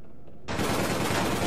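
Gunfire from an OPGL explosive launcher and other weapons in the online shooter APB Reloaded: a quiet lead-in, then a sudden loud sustained burst of dense gunfire filling the rest of the moment.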